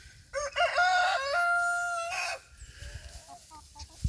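Backyard chickens near a January garden give a loud, drawn-out crowing call followed by several short clucks, close by with no talk.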